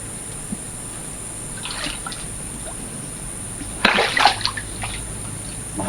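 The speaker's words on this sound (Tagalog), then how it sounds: "Kailangan ilublob natin po sa tubig." A broken skull is dipped into water, a faint slosh followed by a louder splashing burst near the end over a quiet background hum.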